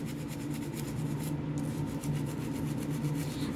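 Scrubbing an orthodontic aligner tray with a brush gives a steady, continuous close-up rubbing and scratching that holds even for a few seconds, with no talking.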